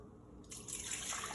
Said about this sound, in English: Now let's pour this into the pot.